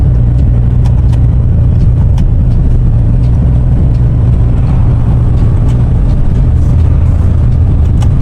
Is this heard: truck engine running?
yes